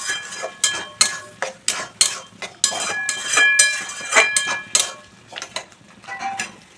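A utensil stirs and sautés taro greens with sugar in a pan, giving a series of sharp, irregular clinks and scrapes with short pauses between strikes, close and fairly clear with no talking.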